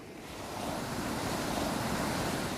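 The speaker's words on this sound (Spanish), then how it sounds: "El hombre frente al mar." Sea waves break and wash steadily against a Scandinavian coastline, a loud, continuous roar of surf with some wind buffeting the microphone. No voices are heard.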